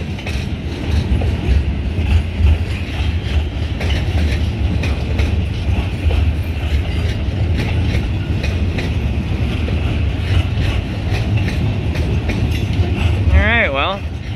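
A long freight train rolls steadily past up close, a continuous low rumble with rhythmic clatter of wheels over rail joints and a brief squeal near the end, loud and sustained throughout.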